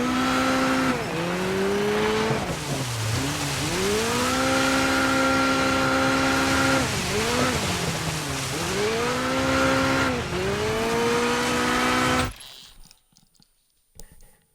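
A racing car in the video game DIRT 5 revs hard through repeated gear changes, engine pitch climbing and dropping, with tire squeal. It runs loud and continuous before cutting out abruptly to near silence.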